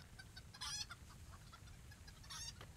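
Chickens clucking in the video game LOTRO, a flock in Evendim, with two short bursts of clucks over a faint, quiet background hum.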